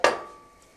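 A single sharp knock of a small sharp kitchen knife on a cutting board while chopping a garlic clove into small pieces, loud and close, fading quickly into quiet.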